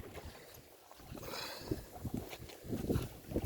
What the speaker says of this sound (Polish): Ale ten wiatr naprawdę jest nie, nieprzyjemny.